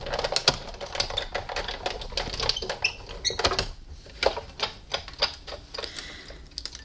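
A die-cutting machine feeds a die and cardstock through its rollers with a run of dense clicking and ratcheting taps, irregular and close.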